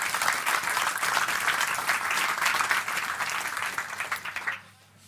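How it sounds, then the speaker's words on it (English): An audience at a science slam applauds with a dense, sustained wash of clapping that fades out near the end. "A big round of applause for you."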